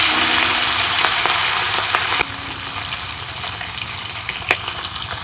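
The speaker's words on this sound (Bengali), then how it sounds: "মাছগুলোকেও একইভাবে ভেজে নেব।" Pabda fish fry in hot oil with a loud, steady crackling sizzle that drops abruptly to a quieter bubbling fry, with a few faint utensil taps.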